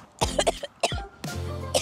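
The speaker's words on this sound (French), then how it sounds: "mais je tousse encore pas mal" Several harsh coughs close to the microphone, a few quick bursts followed by a longer rasping cough with throat clearing.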